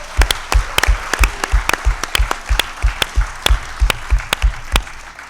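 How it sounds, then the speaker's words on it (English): Audience applause at a conference closing session, heard as sparse, distinct claps, fairly close and loud, coming in an uneven run rather than a full crowd roar. "I think they deserve a big applause from all of us."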